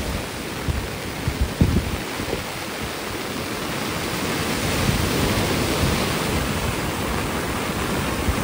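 Rough water churns and crashes continuously in a loud, broad roar, with gusty surges building toward the end.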